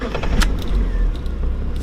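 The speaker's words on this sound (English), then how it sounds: "Let me just give it a cold start." A Mazda Miata fitted with a replacement engine of about 75,000 to 80,000 miles starts cold after sitting unused, giving a dense, steady low rumble with brief higher clatters over it for about two seconds.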